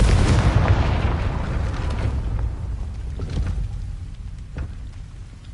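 A Confringo blasting spell explodes in Hogwarts Legacy: a loud, deep boom that rumbles and slowly fades over several seconds, with a few faint crackles in the tail.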